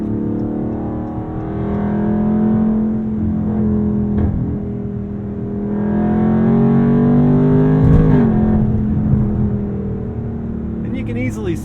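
Dodge Charger Scat Pack Widebody engine revving up through the gears, the tone climbing steadily and then dropping sharply at each quick shift, heard from inside the cabin with someone talking over it.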